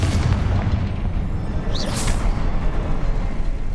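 A Confringo fire spell goes off in Hogwarts Legacy: a loud, sustained booming roar of low rumble across the whole stretch, with a brief whooshing flare partway through.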